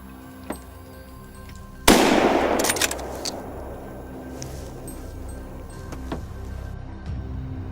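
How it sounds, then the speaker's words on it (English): A single loud gunshot cracks out during a wild boar hunt in a swampy forest, its blast decaying into a long rolling echo, with a few fainter pops and clicks before and after. "Gunshots echoed steadily through the quiet forest, each shot cleanly dropping a target."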